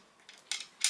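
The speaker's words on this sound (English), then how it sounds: "use my spring-loaded scissors" Small spring-loaded scissors cut paper with a few quick, crisp snips, each louder than the last, in a quiet room.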